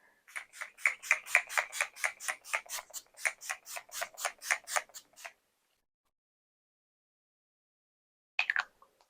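Makeup setting spray misted onto a face, a fast run of about twenty short pump sprays lasting five seconds, then silence, then a brief final burst of sprays, close and with no talking.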